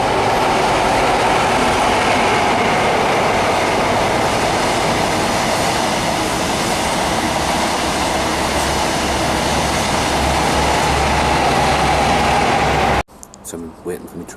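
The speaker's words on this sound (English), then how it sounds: "So I'm waiting for my train." Train rumbling through a station in Edinburgh, a loud steady rolling roar for about thirteen seconds that cuts off abruptly into quiet.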